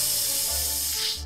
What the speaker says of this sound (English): Use the bug spray. Just spray them in the face,